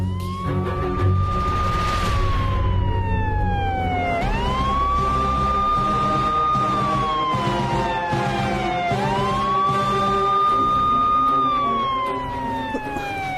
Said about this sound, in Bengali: পুলিশের গাড়ি স্যারেন না?